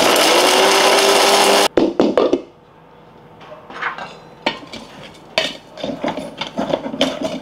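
A mixer grinds tamarind with spice powder in a loud, steady whirring burst lasting under two seconds, then stops and gives way to scattered clanks and knocks of the jar and utensils.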